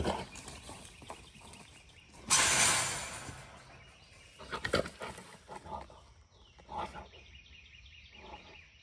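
A wild boar gives low grunting and squealing calls, moderately distant, amid rustling outdoor noise and a sudden loud burst of sound.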